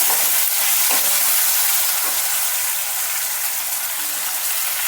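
Brinjal being stirred into vangibath in a hot pan, giving a steady close sizzle with soft scraping of the spoon against the pan and a few light knocks.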